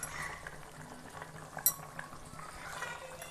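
Rohu fish mustard curry gravy simmering in a pan for an Odia country-style dish, a soft steady bubbling with faint stirring and a brief utensil clink, close and quiet with no talk.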